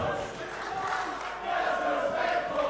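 A live crowd at a Lucha Libre pro wrestling show in Scotland roars and shouts in sustained disapproval after a wrestler's mask is taken, a dense wall of voices building louder partway through.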